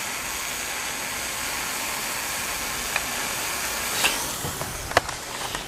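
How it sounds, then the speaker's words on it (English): A steam radiator with an automatic venting air valve hisses steadily as it heats up, a constant close-up wash of noise with a few faint ticks and small pops near the end. "this is basically how you should hear any steam radiator operate"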